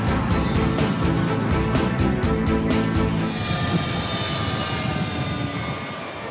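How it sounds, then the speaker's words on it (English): An F-111 jet flies by loud and close during a dump-and-burn display, afterburner roar rumbling throughout and slowly fading as it passes. "The F-111 can dump and ignite fuel with the afterburners."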